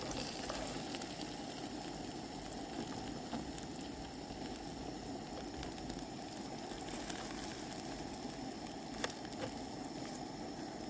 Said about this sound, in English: I was going to do Coleman fuel on this one, frying up the potatoes